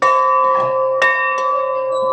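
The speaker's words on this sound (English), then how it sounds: "first he has to ring the bell" A bell rings at the Durham Railway Museum in Omaha, Nebraska, with a few sharp, loud strikes whose bright metallic tone hangs and rings on steadily between hits, close by.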